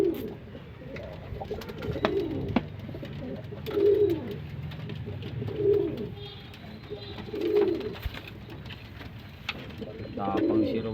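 Pigeons in a loft give repeated low cooing calls every couple of seconds, close by, over rustling and faint background noise, with no talk.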